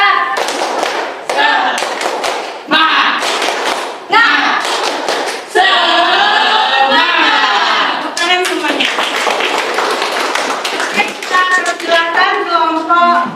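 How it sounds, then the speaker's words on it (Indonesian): A group of people performs a tepuk semangat spirit clap in a classroom, sharp rhythmic claps in quick bursts separated by short pauses, loud and close, with voices chanting along between the patterns. "Tepuk semangat."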